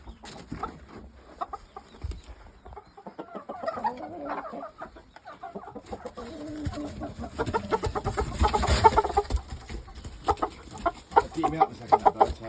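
Shamo game chickens clucking close by in short, irregular bursts, becoming busier and louder toward the end alongside some handling noise.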